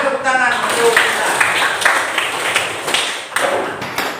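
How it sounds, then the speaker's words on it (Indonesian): Students in a classroom clapping together, a brief burst of mixed, uneven applause at close range, with speech over it. "kita tepuk tangan untuk kita"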